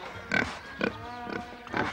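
A pig grunts in repeated short bursts, about four snorting grunts spaced roughly half a second apart, close and fairly loud with a faint background hum between them.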